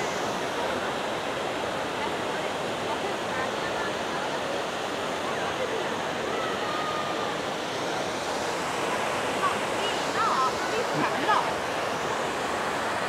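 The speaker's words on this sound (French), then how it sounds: "on est au niveau de l'eau, on entend bien la fontaine" Fountain water in Rome pours in a steady, dense wash, close and continuous, with the occasional brief stir of nearby voices.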